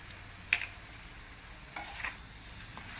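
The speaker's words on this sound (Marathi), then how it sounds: "पुन्हा एकदा भाजी परतून घेऊया" Dry val bean bhaji with fresh coriander is stirred in a pan, a faint low sizzle broken by a few soft clinks and scrapes of the spatula, close but quiet, with no one talking.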